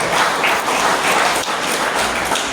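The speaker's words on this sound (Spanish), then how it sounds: "Denle otro aplauso al Rey de Reyes y Señor de Señores." A church congregation giving sustained applause during a sermon, a loud, even wash of clapping throughout with no speech over it.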